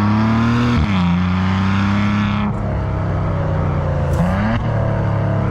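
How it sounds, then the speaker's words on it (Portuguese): A 2014 Maserati Ghibli SQ4 six-cylinder engine revs loud and close, its pitch rising and dropping through several sweeps with gearshift dips, a continuous throaty drone carrying throughout without speech. "é um regalo ouvir estes 6 cilindros cantar"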